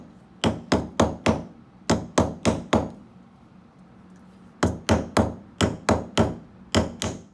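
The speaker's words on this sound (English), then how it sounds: "what I'm doing is I'm rolling the wire in between my fingers ever so slowly as I make overlapping blows with my plastic mallet" A plastic mallet strikes wire being shaped into a bow fibula: two bursts of sharp, rhythmic blows, about seven evenly spaced hits, a pause, then another run of similar knocks, close and distinct.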